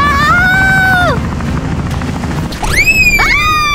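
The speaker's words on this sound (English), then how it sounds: "They've even got a helicopter over here!" A helicopter in the Wobbly Life video game whirs loudly with a rising and falling rotor whine, the pitch dropping away, then sweeping back up as it starts again.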